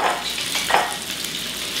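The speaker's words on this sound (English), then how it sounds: "you want to hear that sizzle when it goes in" Pad thai noodles sizzle and crackle in hot oil in a wok, a loud, close hiss with brief bursts of spattering as they are stirred.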